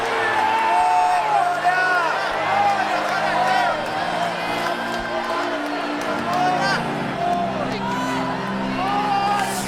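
A church congregation at a Gideões missionary gathering claps and cheers loudly and continuously, with many voices shouting and singing over the steady applause.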